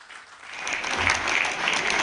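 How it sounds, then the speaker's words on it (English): An alumni meet audience breaks into a big round of applause, dense and steady clapping from many hands that holds at an even level throughout. "Give him a big round of applause"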